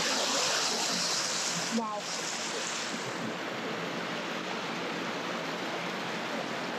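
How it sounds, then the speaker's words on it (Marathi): Water rushes down the stepped face of a dam below a lake in a steady, broadband roar, close and continuous, with a brief faint sound briefly cutting through early on. "पायऱ्या वाईज असतात ना पायऱ्या तसं पाणी वाहतं पुढे"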